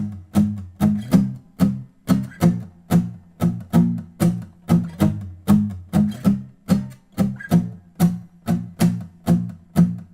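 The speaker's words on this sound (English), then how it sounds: "The verse with its triplets and palm mutes will sound something like this." Acoustic guitar playing the verse of a pop song with a rhythmic strum of triplets and palm-muted chords. The beats are regular and evenly spaced, close and fairly loud, with no talking over them.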